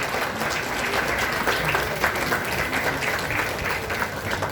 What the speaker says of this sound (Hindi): सभी लोग खड़े होकर ताली बजाइए एक बार